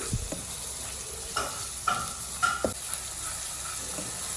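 Steady sizzling of ground green chilli paste in a hot pan with onion, garlic and ginger, broken by a few clinks and scrapes of a spoon stirring the paste. Close by, with no voices.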